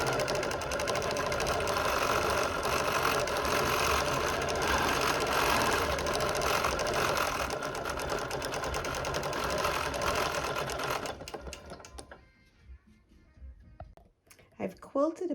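A sewing machine stipples the white areas of a flower-garden quilt in a fast, continuous mechanical chatter for about eleven seconds, then stops, leaving quiet handling sounds.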